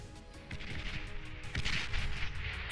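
Artillery fire in the strategy game Beyond All Reason sounds as a few low, booming shots and rumbling impacts, moderately loud, one heavier blast near the middle, set against a dense layer of battle noise.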